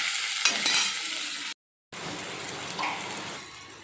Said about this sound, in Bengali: এবার এই মশলাটাকে একটু ভাজা ভাজা করে নিচ্ছি